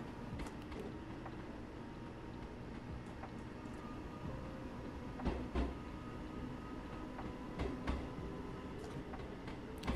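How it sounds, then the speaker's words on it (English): Rumbling track noise from a Class 313 electric train running in Train Sim World 2, a steady low roar with faint rhythmic clicks and a few louder joint thumps, continuous and close throughout. "I am liking the track noise we're getting with this train."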